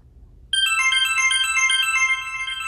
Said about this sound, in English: That's my kind of ringtone.